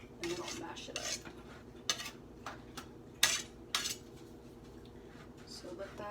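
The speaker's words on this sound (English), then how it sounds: "And then I'll mash it up." Beans for homemade hummus are mashed by hand in a bowl, giving a string of irregular utensil clacks and scrapes against dishware, close and moderately loud, with brief talk alongside.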